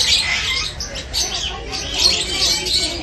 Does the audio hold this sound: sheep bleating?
no